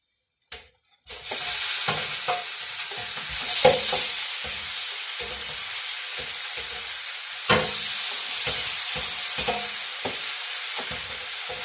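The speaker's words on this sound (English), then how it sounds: "And now I will put the rice in." Rice fries and is stirred in a pan with lemon juice, a loud sizzle bursting in after a brief clatter, with repeated scraping strokes and a couple of louder pushes through the hissing grains.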